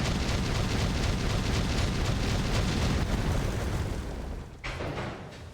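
A loud, sustained explosion from the video game Hollow Knight, a broad roaring blast filling the whole clip, briefly dipping and tailing off near the end, with no talk over it.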